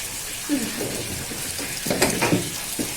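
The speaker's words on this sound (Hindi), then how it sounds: "इसका भी ना नल चला देती हूँ यहाँ से, इसमें भी थोड़ा बहुत पानी आ जाएगा।" A water tap runs steadily into a bucket, a continuous close hiss of flowing water with a few brief knocks and clatters over it.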